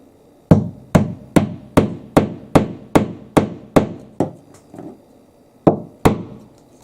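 Sharp hammer taps drive a plastic wall anchor into a drilled hole while mounting an INTI LED flat panel light fixture: about ten evenly spaced close knocks, softening toward the end, then two more after a pause.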